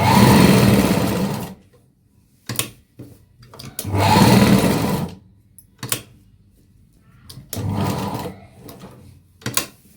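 A sewing machine stitching fabric for a designer kids' frock, running in three loud, steady bursts of whirring stitches separated by short clicks and pauses, close up.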